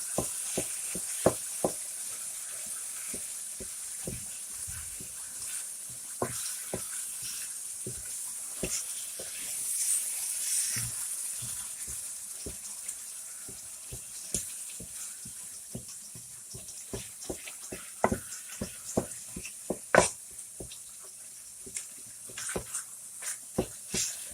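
A wooden spoon scrapes and taps through meat pie filling in a hot pan, with irregular clicks over a steady soft sizzle that runs throughout.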